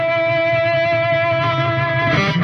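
A single loud, distorted electric guitar note sustains steadily through a Reaper amp chain with the reverb turned off, dry and continuous, with a brief pick scrape near the end and no voices.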